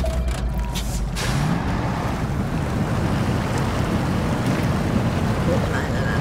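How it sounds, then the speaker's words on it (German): A truck in the off-road driving game Mudrunner pushes through water, giving a steady, loud rumbling wash of engine and sloshing water that continues unbroken throughout. "Wenn ich jetzt hier übers Wasser fahre"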